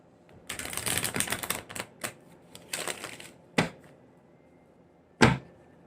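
A tarot card deck being split and handled, heard as crisp papery riffles in quick bursts followed by a few sharp isolated snaps and taps, close and fairly quiet with no talking.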